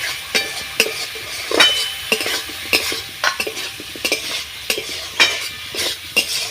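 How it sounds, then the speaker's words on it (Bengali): Spices and cumin powder are stir-fried in a pan: a quiet sizzle runs under repeated sharp scrapes and clinks of a spoon against the metal, in an irregular rhythm. "একটু জিরে গুঁড়ো দিয়ে একসাথে ভালো করে কষিয়ে নেব।"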